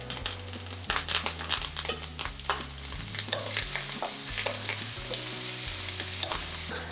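Curry leaves and onions fry in hot oil for a village-style brinjal stew, giving a busy crackling sizzle broken by stirring scrapes and spatters, close and steady throughout.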